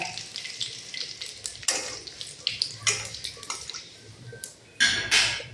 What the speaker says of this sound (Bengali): প্রথমে ফোড়নে দেবো তেল, জিরা, শুকনো লঙ্কা আর তেজপাতা